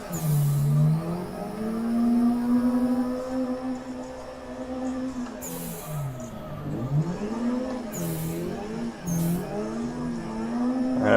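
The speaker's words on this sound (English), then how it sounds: "I shouldn't crash into people during the stream that I am hosting." In a modded Assetto Corsa drift session, a car engine revs and bounces off the limiter while tires squeal in long, wavering slides, with sharp bursts of impact noise as the car crashes into other cars.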